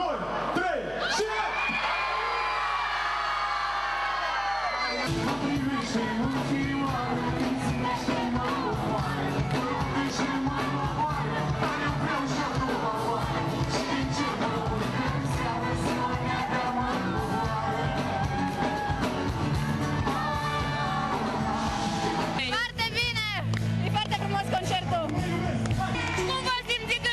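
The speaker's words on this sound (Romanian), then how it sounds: "La semnalul meu, toată lumea strigă aiurea." A large crowd in a town square bursts into loud, jumbled shouting and whooping on a cued signal, sustained as a dense roar for over twenty seconds after a brief quieter opening.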